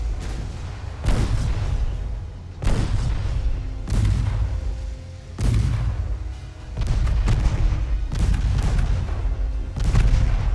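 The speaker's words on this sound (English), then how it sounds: "Fire the main guns at this." Warship main guns fire in the naval video game Ultimate Admiral: Dreadnoughts, heavy booming salvos repeating roughly every one to two seconds, each a deep, loud blast with a rumbling tail.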